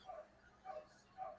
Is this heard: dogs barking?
yes